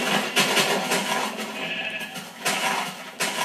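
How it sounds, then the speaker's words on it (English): Sheep bleat in Minecraft Xbox 360 Edition, a few short game-sound bleats over a busy, constant background of game noise, fairly loud and with no talking. "Come in and kill the sheep. Sheepies."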